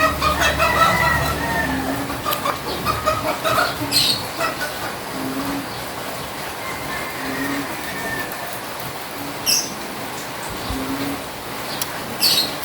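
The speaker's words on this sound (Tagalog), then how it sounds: "Manok po." Chickens and a rooster in a rural yard during a typhoon: clucking and scattered fowl calls with a few short crowing bursts, moderately distant over a constant rainy background hiss.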